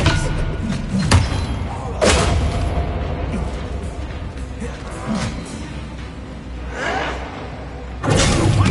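A spell cast in the Hogwarts Legacy video game lands as a few heavy thumping booms against a dense, rumbling combat backdrop, with sharp bursts near the start, middle and end.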